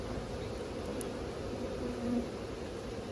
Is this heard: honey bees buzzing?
yes